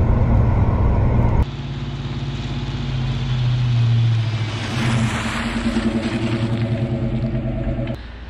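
A Ford Mustang, a Fox-body model, drives with a steady, loud engine drone and road noise from inside the car, the pitch shifting as it accelerates, with no talking.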